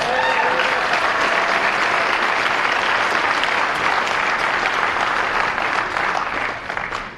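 A basketball game crowd at a senior night ceremony breaks into dense, loud applause that holds steady for about seven seconds before thinning slightly at the end.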